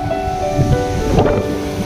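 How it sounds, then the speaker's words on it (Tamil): Water running under a small bridge in a home garden after heavy rain, a steady broadband rush that stays close and continuous throughout, with a faint tonal hum in the background. "நம்ம தோட்டத்தில் இருக்கிற பாலத்துக்கு அடியில் எப்படி தண்ணி வருது பாருங்கள்"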